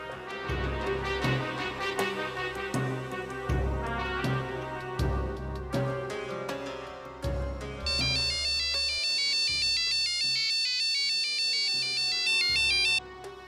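A telephone ringtone plays while a call is placed, a repeating musical melody over a pulsing beat that later switches to bright, high chiming tones. It is heard up close with no speech.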